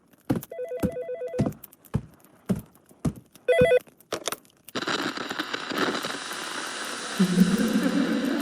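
Telephone bell rings repeatedly inside the horror game Dread Flats, sounding in short bursts between sharp knocks, then giving way to a dense, rumbling ambient wash.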